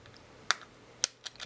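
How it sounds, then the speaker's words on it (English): A few sharp, quiet scissor snips cutting apart connected rhinestones, one at a time with short pauses between them, in an otherwise still room. "I'm just going to take my scissors"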